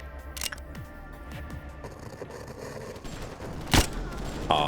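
Video game gunfire in Lobotomy Corporation: a few sharp, loud shots spread across a quieter background of game sound, with a final burst near the end.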